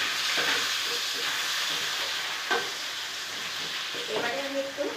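Potatoes frying in a pan with bay leaves and whole spices, a steady close sizzle and hiss running throughout with a few brief stirring scrapes.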